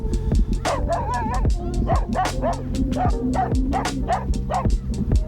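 A friendly dog barks and yips repeatedly at close range, mixed with whimpers, over a steady low rumble of background noise.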